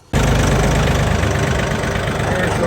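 A tractor engine starts up abruptly and then idles loudly and steadily close by, a deep, even rumble with no voices over it.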